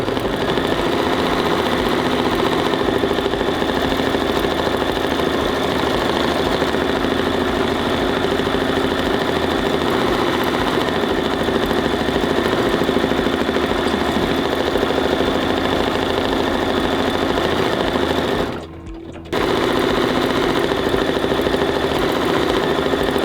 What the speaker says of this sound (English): it's going to go around and do that cute little heart quilting.